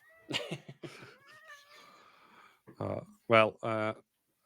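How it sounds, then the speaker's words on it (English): A house cat meows several times, with a few short, loud, tonal cries clustered near the end, following an earlier stretch of people talking nearby. "And obviously there's our guest appearance from Will's cat again, as usual"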